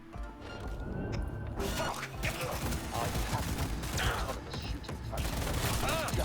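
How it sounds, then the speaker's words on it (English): Rapid bursts of Skippy smart pistol fire in the video game Cyberpunk 2077, loud and near, popping over and over through a busy, noisy combat scene with a siren-like tone faintly in the background. "I'm using the Skippy smart pistol so I could try and rack up these kills"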